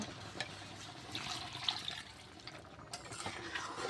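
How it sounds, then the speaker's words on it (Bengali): Water is poured quietly into a pot of chana dal and goat meat, a faint trickling splash against soft background noise. "এখন অল্প একটু পানি দিয়ে দেব।"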